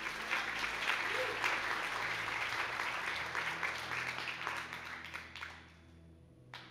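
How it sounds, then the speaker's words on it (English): Presbyterian church congregation applauding together, a dense, steady wash of clapping heard from within the room that tapers off and fades after about five seconds. "let's clap for them."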